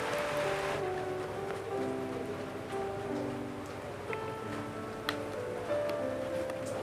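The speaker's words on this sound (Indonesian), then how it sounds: "Ujungnya makin deras nih." Steady rain pours down outdoors, a dense, even hiss that holds throughout with faint tonal sounds running beneath it and no speech.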